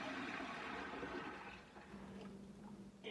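Water pours steadily over grain in a one-gallon SMaSH ale brew, a continuous liquid splash that tapers near the end with a small clatter.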